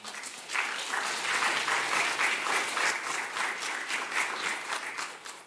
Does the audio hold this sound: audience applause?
yes